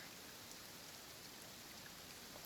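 Heavy rain falls steadily in Genshin Impact during the Fontaine quest, a dense, even hiss that stays constant throughout with no voices or other sounds over it.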